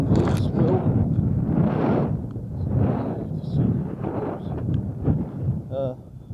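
Strong wind gusts buffet the microphone at an outdoor car boot sale, rumbling in repeated surges, with someone talking through the gusts.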